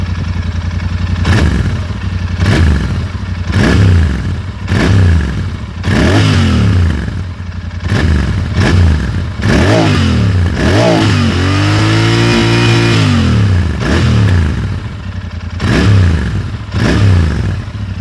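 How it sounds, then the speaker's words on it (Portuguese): A Royal Enfield Interceptor 650 twin with dual exhausts is blipped repeatedly up close, sharp revs rising and falling over a steady idle, with one longer sustained rev in the middle. "É bem interessante o ronco com esse escape duplo, porque você de fato percebe que o som tá vindo de dois lados."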